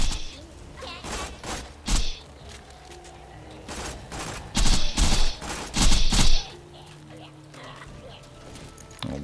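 A submachine gun in Borderlands 3 fires several loud, rapid bursts in a row, heaviest around the middle, while someone talks between and over the shots.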